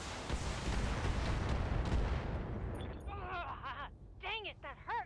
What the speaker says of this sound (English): That was just a stray missile.